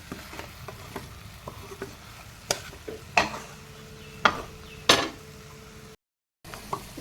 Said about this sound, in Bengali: ওদিকে চিকেন কষা চলছে আমি আর একবার চিকেনটাকে